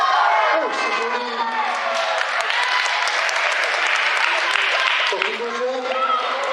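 Spectators at a women's tag-team wrestling match applaud and cheer loudly in a sustained crowd roar, with a commentator talking over the noise.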